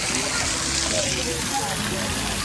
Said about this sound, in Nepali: श्रम संस्कृति पार्कभित्र पानीको फोहरा